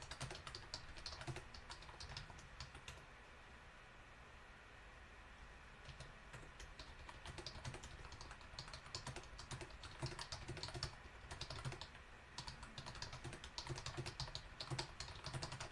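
Typing on a computer keyboard at a desk, a steady patter of close key clicks with brief pauses, continuing throughout with low room noise underneath.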